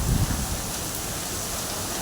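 Steady rain pours down, a dense broadband hiss with a brief low rumble like a gust of wind at the start, continuous and fairly close throughout.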